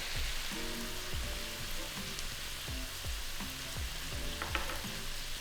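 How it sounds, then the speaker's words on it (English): Potatoes frying in a pan with Worcester sauce, salt and black pepper, giving a steady close sizzle with soft stirring scrapes and occasional tonal clinks, while muffled background voices carry on beneath. "Stir together and fry for 5 to 6 minutes until the potatoes are starting to brown."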